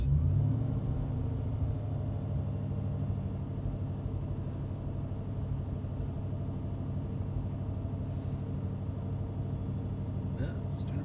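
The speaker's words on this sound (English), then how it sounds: "If I give it a little bit of gas" Jeep Grand Cherokee WJ engine idling in a driveway with a low steady rumble, given a light blip of gas near the start, while a person talks over it.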